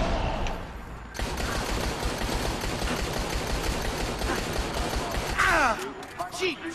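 Dense, sustained gunfire and rapid automatic bursts from Dead Rising 3, loud and continuous for most of the stretch, tapering near the end with a brief higher-pitched whine; someone talks over part of it.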